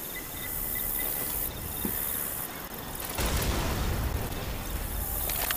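A pipe bomb explodes in the Left 4 Dead 2 zombie game on the Dark Carnival map: a loud, broad rumbling blast about halfway through that lingers over a steady bed of chirping cricket ambience.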